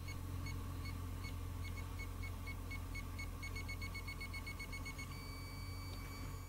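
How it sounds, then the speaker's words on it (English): A portable satellite receiver emits a rapid series of short, faint electronic beeps to guide dish pointing, the pulses varying in pace over a constant low hum. "First thing you do is switch it on and you can hear it's beeping."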